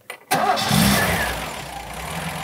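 A Ford P7A six-cylinder engine starts with a sudden loud catch after a brief quiet moment, then runs up under a little throttle and holds a steady, rough idle close by.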